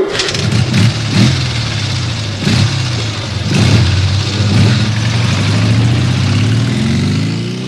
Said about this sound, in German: Wir nehmen das Motorrad.